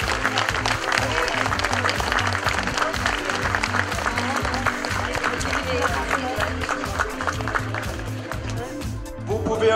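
A crowd applauds the top three overall finishers on the final podium of a cycling race, dense continuous clapping with cheers under an announcer's amplified voice, easing off near the end.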